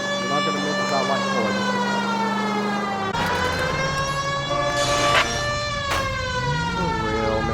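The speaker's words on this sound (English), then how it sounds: "You hear siren?" A police car siren in the video game L.A. Noire wails loudly and continuously, its pitch rising and falling in long sweeps with a steady engine rumble beneath it and a few faint background sounds.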